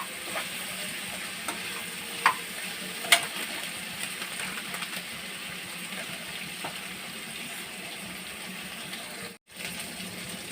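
Onions and mint for egg biryani fry in a pan with a steady, close sizzle, broken by a few sharp stirring clicks and scrapes.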